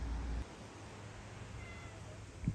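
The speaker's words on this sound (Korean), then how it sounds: "야옹." A cat meows once in a quiet rural Korean house yard near a woodpile, faint and short against a low background hum.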